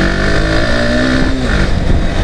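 A Honda NS160 motorcycle engine accelerates loudly and close by, its droning note climbing steadily in pitch as it gains speed, with no speech.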